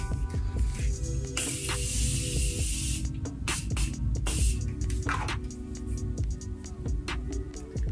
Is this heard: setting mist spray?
yes